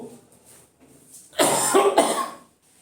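In a coaching class lecture, a burst of harsh coughing, two or three rough hacks in quick succession, loud and close, following a quiet stretch with faint background noise.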